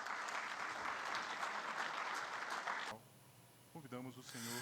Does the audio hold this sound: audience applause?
yes